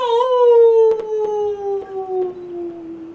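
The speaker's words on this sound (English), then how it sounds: "The wolf stopped by and pawed to the ground with its left paw thrice, and then with its right paw thrice, and howled." A wolf howls in one long, loud, close cry that rises briefly, then slowly slides downward and fades over about three seconds, with faint clicks in the background and no talking.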